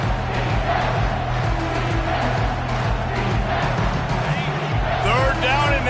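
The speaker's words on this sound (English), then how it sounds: "this crowd is tearing the lid off this place" A college football stadium crowd roars loudly and continuously on a third down in a Tennessee versus LSU game, a dense wall of cheering that swells toward the end, with a commentator's voice over it.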